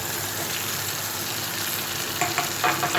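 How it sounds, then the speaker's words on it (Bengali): Pointed gourd stirred and fried in a pan, a dense steady hiss of frying close by, with a few louder scraping stirs near the end. "এটাকেও ভালো করে নেড়ে চেড়ে কষিয়ে নেব।"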